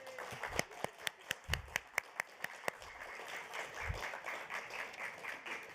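An audience applauds the authors at a celebration. A short run of a dozen or so distinct, evenly spaced claps sounds from a small gathering, thins out and fades into quiet room noise.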